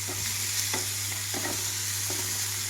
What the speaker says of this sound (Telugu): ఇప్పుడు ఇందులోని వేడి నీళ్ళలోంచి తీసి మళ్ళీ చన్నీళ్ళలో కడిగిన క్యాలీఫ్లవర్ ఇందులోకి వేసేసాను